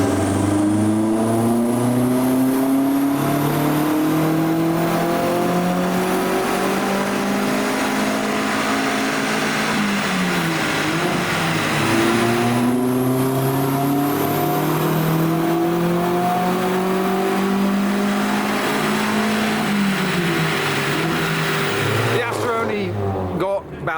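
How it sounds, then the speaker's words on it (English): Vauxhall Astra engine revving hard on a dyno at a car meet, a loud, continuous roar with rising and falling pitch sweeps as it climbs through the revs, cutting off abruptly near the end. "The whole point of this show is to put some cars on the dyno"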